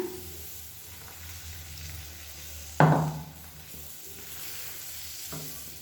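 Dosa batter hits a well-heated stone griddle with one loud splashing sizzle, then settles into a steady frying hiss with faint clatter nearby.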